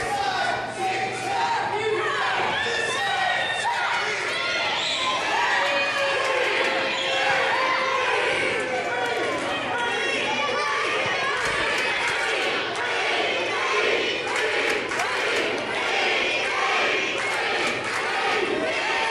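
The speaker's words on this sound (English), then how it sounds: "The whole side, every side, chanting Reed." A basketball crowd chants the name Reed in unison, a loud, rhythmic roar filling the arena continuously, with sneaker squeaks and ball bounces scattered beneath and voices talking over it.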